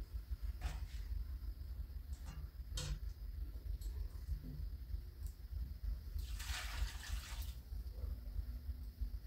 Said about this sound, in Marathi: चिकन आहे ना छान असं स्वच्छ धुवून घेतलं